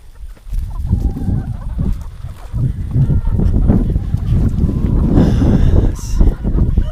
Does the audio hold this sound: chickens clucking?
yes